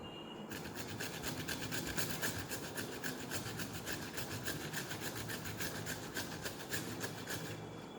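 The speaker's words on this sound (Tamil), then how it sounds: "இப்போ இது இஞ்சியை நல்லா ஸ்க்ரப் பண்ணிக்கலாம்." Ginger being scrubbed, a steady, fast back-and-forth rasping that runs close and continuous with a quick regular rhythm throughout.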